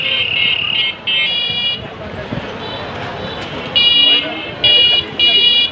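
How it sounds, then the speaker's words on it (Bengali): An electronic bicycle horn sounds in several bursts, a loud buzzing, alarm-like tone repeated with short gaps, close by, amid outdoor street noise during a first cycling trip. "এত হর্ন বাজিয়েছি যে হর্নই পাল্টে গেছে"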